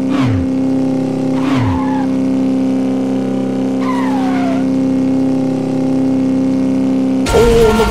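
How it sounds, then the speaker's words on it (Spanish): Steady droning motor hum from the Moto Rider motorcycle racing game, loud and constant throughout with a few brief sliding tones cutting in, and a harsher engine burst at the end. "me estoy adaptando a la conducción de mi motocicleta"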